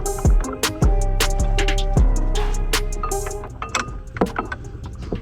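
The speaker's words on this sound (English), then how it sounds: "install the brake pads." Metal brake parts clank and tick as Wilwood pads go into a big brake kit caliper on an 8th-gen Honda Civic Si FA5, with sharp close knocks and rattles in an uneven rhythm.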